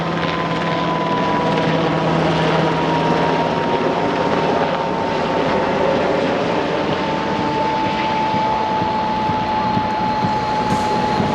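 An MH-60R Seahawk naval helicopter flies nearby, its rotor and engine roar loud and continuous with a steady turbine whine held throughout, no voices.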